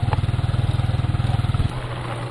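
A motorbike carries riders along the rough, potholed Mpohor-Amuzukrom road, its engine thudding in a fast, even pulse close by before dropping to a softer, steadier hum.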